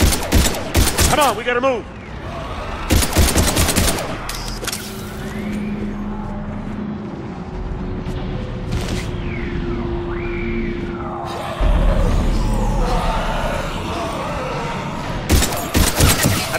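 Mass Effect 3 combat on the Xbox 360: bursts of loud automatic gunfire and rattling volleys come in clusters at the start and end, with electronic whooshes and a steady hum between them while a man calls out urgently.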